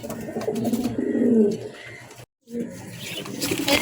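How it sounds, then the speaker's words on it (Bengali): Soft pigeon coos and fluttering sounds close by as pigeons are packed into a box, with voices talking over them and a brief silent gap midway. "এখন এই কবুতরগুলি আমি বক্সে ভরবো"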